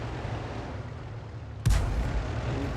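A single 105 mm leFH18B2 howitzer shell fires in a tank video game: one sharp, heavy close-range boom cuts through a steady low engine rumble, then lingers. No speech.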